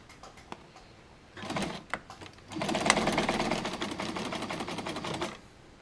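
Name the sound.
sewing machine straight-stitching a dart bag strap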